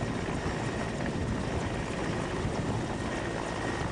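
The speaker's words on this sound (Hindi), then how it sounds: "ये तस्वीरें हम आपको दिखा रहे हैं किस तरह हेलीकॉप्टर के जरिए रेस्क्यू ऑपरेशन चलाया जा रहा है।" A rescue helicopter flying over heavy snow in Himachal Pradesh, a continuous dense rotor and engine roar that holds steady and loud throughout with no voices.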